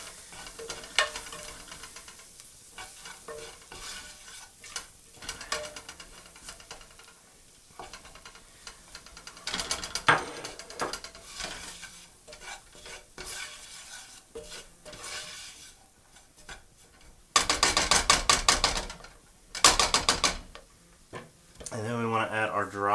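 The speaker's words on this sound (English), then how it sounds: "So we want to stir in the flour, right? Just kind of stir it in there." A spoon stirs all-purpose flour into a soup pot for beer cheese soup, scraping and clinking in irregular bursts with soft sizzling beneath, a few sharp louder scrapes near the end.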